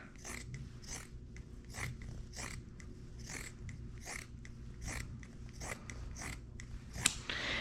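Scissors snip through fabric being cut for a homemade dog bandana, a steady run of about a dozen short, crisp cuts in an even rhythm, close and fairly quiet, with no talking.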